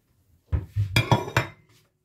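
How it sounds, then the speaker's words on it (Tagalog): Food is set onto a small plate with a handful of sharp ceramic clinks and knocks in quick succession, close and clear against silence. "Lagyan natin sa maliit na pinggan."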